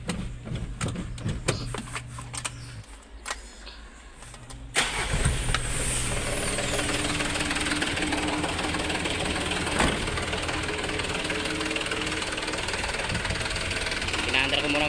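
A car engine cranks and starts after an oil change, then settles into a steady, close idle. Someone talks over the first few seconds before the engine catches.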